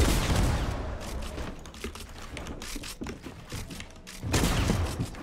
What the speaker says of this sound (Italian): Mi stanno sparando...